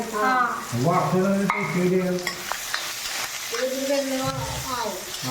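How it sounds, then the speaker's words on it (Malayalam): Raw peanuts stirred and frying in a pan with onion, curry leaves, ginger and green chilli for flattened-rice upma, giving a steady scraping and sizzling with voice-like tones running through it. "കപ്പലണ്ടി ഇടുന്നുണ്ട് കേട്ടോ."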